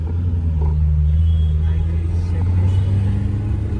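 A Maserati's engine and exhaust rumble from close behind in traffic, a deep steady bass drone holding throughout with no voices.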